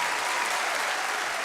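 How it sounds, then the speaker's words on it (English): Steady crowd applause filling the Grand Ole Opry during a live country music broadcast, dense and continuous with no voices breaking through. "Oh, it's so good to hear a crowd."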